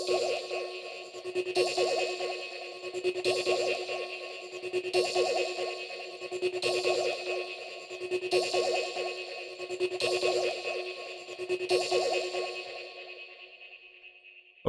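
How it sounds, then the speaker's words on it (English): A pad or lead tone from a retro sound-effects sample swells in repeating pulses about every second and a half, with sustained bright harmonics that fade out at the end; no voices. "Next, I have this sort of the pad or lead sound that sounds like"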